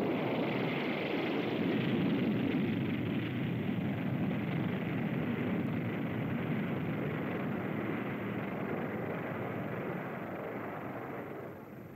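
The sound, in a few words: jet bomber taking off with JATO rocket bottles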